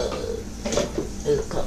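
Cups clattering and being handled among dishes in a home kitchen at a birthday gathering, with short knocks and clinks close by under background voices.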